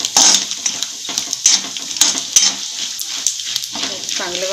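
Cashews, almonds and raisins roasting in ghee for a karanji filling, crackling and sizzling close up while a spoon repeatedly scrapes and clatters against the pan; a voice briefly surfaces near the end.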